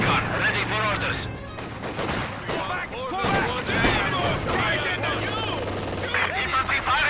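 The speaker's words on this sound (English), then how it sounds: "Infantry firing on us" Infantry gunfire in the strategy game Company of Heroes 2 cracks in repeated sharp bursts and scattered shots, mixed with in-game unit voices and battlefield clatter.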